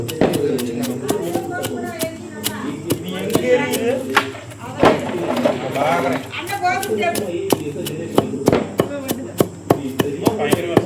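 Sharp, repeated knife chops through chicken on a board in an uneven rhythm, close by, with people talking throughout.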